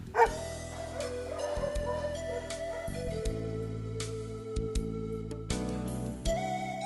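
Dogs at a dog training centre bark and yip in short, irregular bursts, close by, with an occasional whimper between them.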